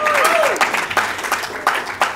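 An audience round of applause at a school English lecture, scattered claps rising under the tail of a voice, uneven and moderately close.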